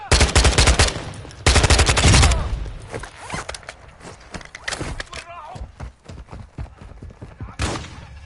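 Call of Duty gunfire in two heavy bursts of rapid automatic shots near the start, followed by scattered lighter shots and battle noise and one more sharp burst near the end, with no voices.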